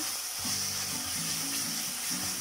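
Garlic and ginger frying in a pan for Punjabi chole, a steady close sizzle with a recurring low hum or tonal whine under it.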